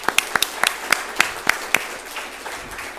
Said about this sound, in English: ask you for a round of applause, please, for our panelists.